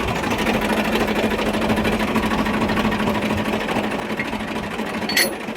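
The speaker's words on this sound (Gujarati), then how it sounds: "હવારમાં ટ્રેક્ટર લઈને આવી ગયા ટોલું જોડવા માટે" A tractor engine runs steadily nearby while a trolley is being hitched, a constant rattling mid-pitched chug with no pauses and a brief metallic clink near the end.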